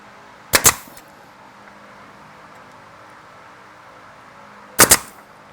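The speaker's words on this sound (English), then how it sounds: "Shoot me a couple nails." An 18-gauge brad nailer drives 1.5-inch brads, firing two sharp double-cracked shots about four seconds apart over a quiet room hum.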